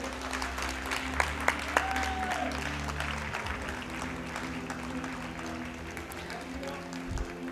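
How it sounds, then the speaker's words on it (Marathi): Applause from the audience at an award ceremony for a one-act play competition in Pune, Maharashtra: steady mid-level clapping spread through a hall for about three seconds, then easing into softer, thinner clapping with crowd murmur and a few knocks. "एकदा जोरदार टाळ्या झाल्या पाहिजेत."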